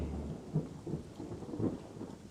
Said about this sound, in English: Sure is a rainy day outside.